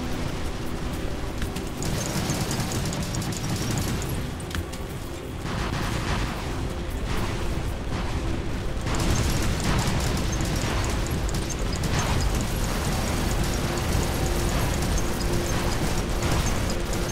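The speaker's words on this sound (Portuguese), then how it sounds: "De onde que tá vindo os tiros?" Dense, continuous gunfire and explosive bursts from the video game War Robots roar throughout, loud and relentless, like a chaotic battle with layered shots and booms.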